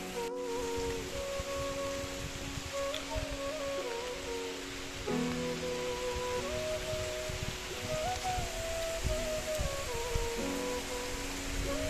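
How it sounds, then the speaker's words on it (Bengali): Steady rain falls in a village beside a pond, a continuous soft patter with gentle music playing over it. "তো এখনো মোটামুটি ভালো বৃষ্টি হইতেছে।"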